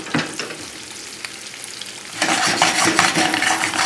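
Radishes sizzle in a thick non-stick Calphalon pan, a steady frying hiss with occasional stirring clicks that swells louder partway through.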